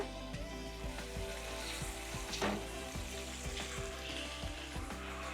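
Tomato passata sizzles and bubbles in a pan, with soft popping and occasional stirring scrapes, close and fairly quiet.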